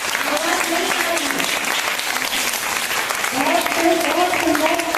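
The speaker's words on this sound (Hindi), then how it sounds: "जोरदार दोनों हाथ से ताली हो जाए" A crowd at a Jain religious gathering claps loudly with both hands, dense sustained applause throughout, with voices mixed into the clapping.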